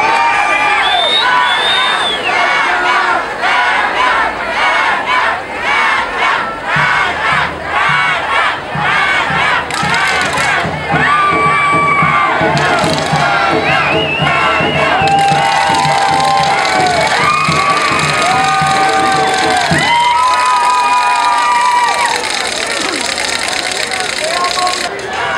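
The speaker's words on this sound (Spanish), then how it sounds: "El aplauso para que pasen para el frente" Audience at a Tuxpan pageant cheering, shouting and clapping loudly and continuously, a dense crowd roar with high voices and whoops layered over an amplified announcer's voice throughout.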